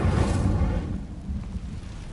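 A fire spell cast in Hogwarts Legacy, a loud rumbling whoosh of flame that swells at the start and then fades into a low, lingering roar.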